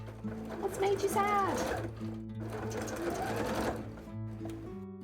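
Sewing machine running with a fault, a close mechanical whirring and rattling that comes in uneven bursts and pauses, with someone speaking over it.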